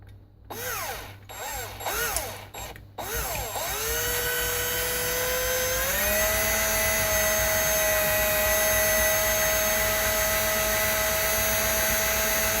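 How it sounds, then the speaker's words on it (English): A power drill with a blunt bit spins up in several short bursts, then runs continuously with a steady high whine, loud and close, grinding through material. "This is rather blunt drill bit."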